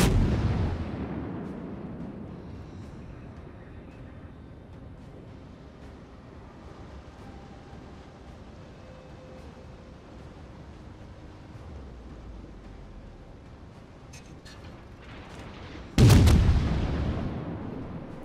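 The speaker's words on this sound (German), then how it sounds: "Jetzt mal die Schüsse Richtung Tirpitz" Naval guns boom in a World of Warships battle: a heavy blast opens, low rumble and distant shots follow, then another loud deep salvo near the end.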